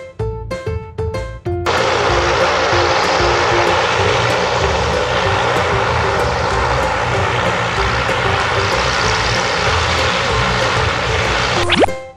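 A zeppelin airship engine drones steadily and loudly for about ten seconds, a dense propeller roar after a short run of plucked musical notes.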